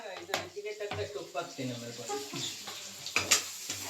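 Tomatoes tossed into liver fry sizzling in a pan over a high flame, with stirring clinks and a steady sizzle running beneath speech throughout.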